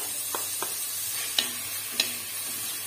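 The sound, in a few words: chopped onion sizzling in oil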